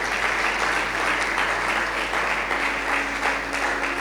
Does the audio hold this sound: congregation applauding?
yes